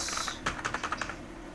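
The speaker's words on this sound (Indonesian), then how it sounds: "ketik aja guys." Quick typing on a computer keyboard, a run of light, close key clicks in an uneven rhythm for about a second before trailing off, fairly quiet with no speech.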